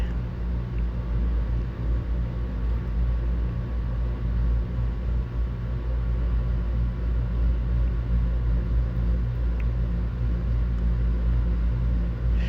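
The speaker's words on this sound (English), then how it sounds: "let's fire up the bike and see if we can go for a short ride" A Royal Enfield Himalayan motorcycle engine runs at a steady idle, producing a continuous deep, close rumble with a faint throb and no talk throughout.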